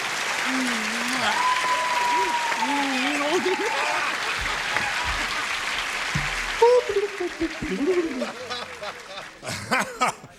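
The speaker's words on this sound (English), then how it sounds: "Just give her a little polite applause as we welcome this pretty lady from Taxi." Studio audience at a game show clapping politely for a guest actress from Taxi, a steady wash of applause with light chuckles, while a host and others talk over it throughout.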